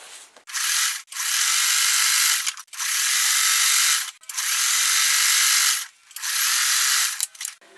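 Quilt fabric being cut in long, steady strokes, each a broad rasping slice lasting about a second, five cuts in a row separated by short pauses, close and fairly loud with no talking.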